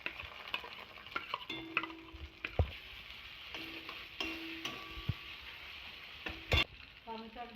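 Ground cumin, pepper and dried red chilli paste sizzles and fries in a pan for a jackfruit and prawn curry, with repeated scraping stir strokes and clinks of a spatula against the metal.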